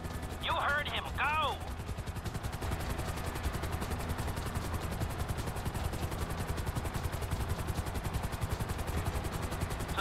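A video game helicopter's rotor thumps in a fast, steady beat throughout, with a few brief chirpy electronic sounds near the start.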